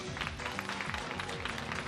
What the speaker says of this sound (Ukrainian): Також, шановні друзі, ваші овації.